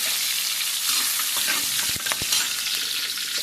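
Two green chillies frying in a pan, a bright, hissing sizzle filling the short stretch, broken by a couple of sharp utensil taps near the middle.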